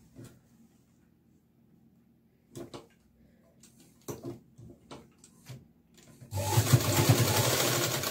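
A sewing machine stitches a satin strip onto a party-wear frock, first a few faint, scattered handling clicks and brief bursts, then a loud, steady motor whir that takes over near the end.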